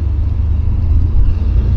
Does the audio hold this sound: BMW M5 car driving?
yes